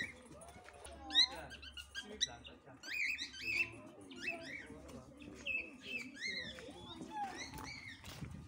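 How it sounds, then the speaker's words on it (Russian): Pet budgerigars chirping in quick, busy bursts of twittering throughout, fairly close, with people talking over them. "Это попугайчики. Попугайчики. Домашнее животное."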